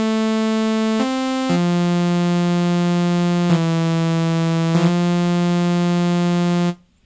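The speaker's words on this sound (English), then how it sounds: "we're going to scroll up until we find ourselves a saw wave" A buzzy synthesized saw wave bass plays a slow pattern of sustained notes with a few pitch changes, bright and steady, then cuts off abruptly.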